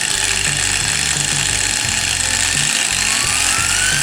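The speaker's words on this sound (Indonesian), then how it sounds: "ketika dicoba di mesin gerinda atau bukan motor induksi seperti ini sobat, bisa kita kontrol speed mulai dari low speed ke high speed" An angle grinder driven through a dimmer speed controller runs loud and steady, its harsh motor whine and buzzing rattle filling the scene, with a faint rising tone near the end as the speed shifts.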